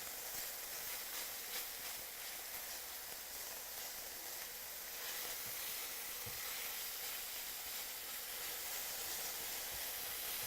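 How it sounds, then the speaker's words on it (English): Ground beef sizzles steadily in a pan, a continuous loud hiss and crackle of frying meat with no voices over it. "You can hear the beef sizzling"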